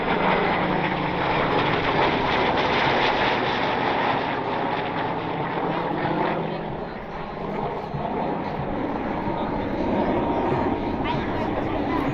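Aircraft making a head-on pass at an air show, a broad, loud jet roar that swells, dips briefly in the middle and builds again, with a voice faintly audible beneath.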